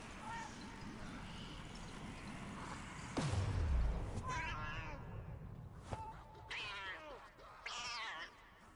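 A cat in the Black Ops 7 Zombies game gives a few short meows and a caterwaul-like cry over steady game background noise, with sounds spaced out across the stretch.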